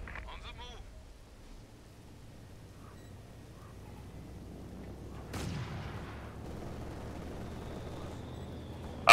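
A mortar firing in Company of Heroes 2 gives a distant, muffled boom with a sharp onset, rising over low battlefield rumble and wind-like noise, with a voice talking faintly.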